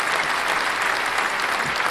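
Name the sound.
crowd applause sound effect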